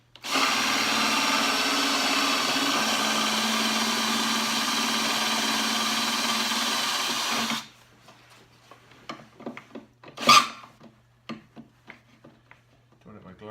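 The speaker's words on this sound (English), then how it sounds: "This way is a little trickier because you got to drill out that steel pin." Drill boring out the steel pin of a rivet during a Ski-Doo MX800 side panel strap repair: a steady, close whine for several seconds, then it stops, followed by faint handling clicks and a brief scrape.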